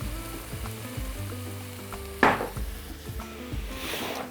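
A pot of water at a rolling boil with a few drops of olive oil added crackles and sizzles, punctuated by soft clunks of kitchenware and one sharp splash-like burst midway.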